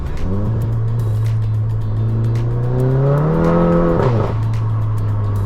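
A Stage 2 tuned VW MK7 GTI, front-wheel drive, revs hard under a pull on a country back road, its engine note climbing steadily in pitch for about four seconds before dropping sharply as it shifts, loud and continuous throughout.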